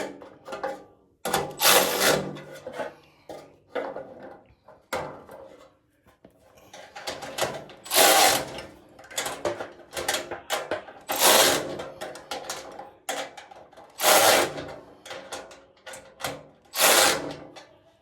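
Bolts and nuts being tightened on a three-tier metal tool cart, giving repeated bursts of ratcheting and clicking metal mechanism noise with short pauses between, close and fairly loud with no talking.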